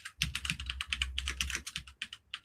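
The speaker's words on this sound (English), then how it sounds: "I'm wondering what you're typing in" Fast, close computer keyboard typing: a quick irregular run of crisp key clicks with brief pauses, fairly quiet and heard alone without talking.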